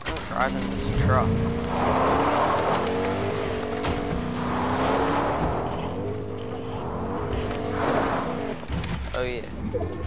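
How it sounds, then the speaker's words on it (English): Truck engine in the Fortnite video game, a steady droning motor rumble that rises and falls through the drive, with voices talking over it throughout. "Driving this truck."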